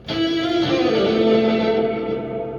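Electric guitar with a heavy reverb effect that makes it sound like a cavern: one strummed chord blooms into a wide, washy tail that slowly fades over a few seconds, close and fairly loud.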